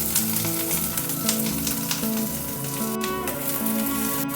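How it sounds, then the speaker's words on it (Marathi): Thinly sliced onion with ginger pieces, garlic and curry leaves frying in a pan until golden, a steady close sizzle with faint stirring, no talk. "आपला कांदा देखील सोनेरी रंग येईपर्यंत भाजून घ्यायचा"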